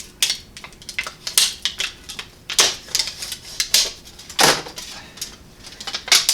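Shears snip lengthwise through a flattened aluminium beer can being made into an exhaust repair wrap, giving a close, irregular series of sharp metallic clicks and crunches.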